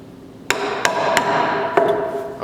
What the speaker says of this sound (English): a good habit is to go ahead and start by just tracing out the mortise with your chisel